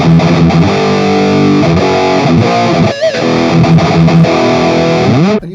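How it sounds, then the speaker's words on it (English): Distorted electric guitar played through a LEKATO Tank G multi-effects processor with VHT Deliverance 4x12 cabinet simulation, loud sustained chords and riffs with a brief pause midway, ending abruptly, no talking. "is going to be based on the VHT Deliverance cabinet, which is a 4x12, and this one sounds like this."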